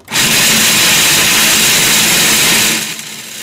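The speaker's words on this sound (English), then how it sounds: "I put half a pound in here, and we just food process it" A food processor grinds half a pound of almonds with a loud, continuous whirring roar that runs for nearly three seconds, then drops off sharply.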